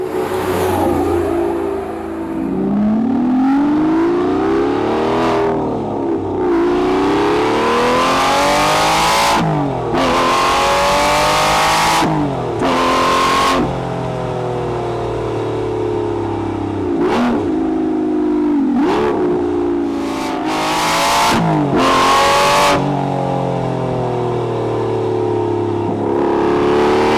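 Manual Aston Martin V12 Vantage S Roadster on the move, its V12 loud and close as it revs hard through repeated gear changes, rising pitch sweeps broken by sharp shifts and throttle blips, with no talking.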